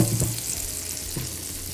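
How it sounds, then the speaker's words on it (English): Onion sautéing in a pan over low heat, a faint steady sizzle with a couple of soft stirring knocks, close by and without any talk. "we're going to go into our pan, which we reduced the heat on significantly down to a low, and we're going to add a little bit of the onion"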